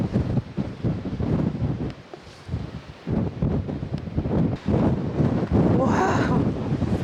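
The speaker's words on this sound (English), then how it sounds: "Oh my god, it's so windy." Strong gusting wind at a cliff edge on Jeju Island buffets the microphone in heavy, irregular roaring bursts, with a person's voice speaking faintly beneath it.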